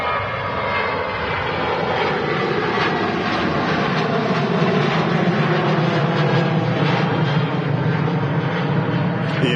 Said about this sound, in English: Operated today by one of their Ryanair 737-800